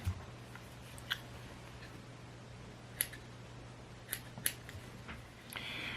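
Scissors snip fly-tying material from an articulated Boogeyman streamer over a garbage pail: a handful of sharp, close clips spaced irregularly over a steady low hum.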